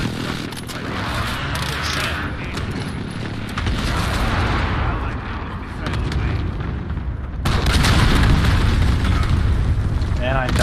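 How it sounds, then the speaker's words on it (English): Cruise missile explosions and heavy blasts in a first-person shooter video game, booming loud and continuous with a sharp surge near the end, under game voice callouts and player talk. "I died at a cruise missile."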